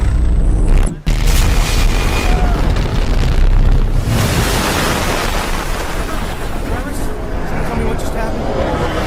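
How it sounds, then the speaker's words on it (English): A heavy EMP blast explosion booms out as a loud, sustained roar with a sharp dip near the start, followed by a continuous wash of rumbling noise and a faint babble of voices beneath. "Must have been an EMP blast."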